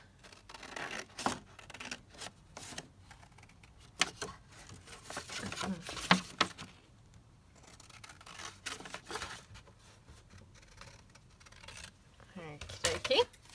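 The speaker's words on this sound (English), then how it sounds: "So I'm just going to cut this one out." Scissors snipping out a fabric pocket piece from a craft kit: quiet, close cuts in uneven clusters with rustling cloth between them, and a soft voice now and then.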